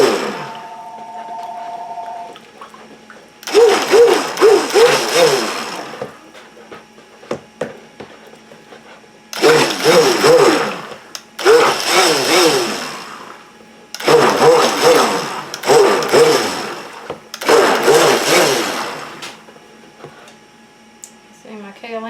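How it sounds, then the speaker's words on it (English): Stick blender buzzing in short bursts as it mixes kaolin clay into cold process soap oils, several pulses of a few seconds each separated by pauses, close and fairly loud, with a voice talking between bursts. "See, my kaolin wanting to stick to the top of my stick blender."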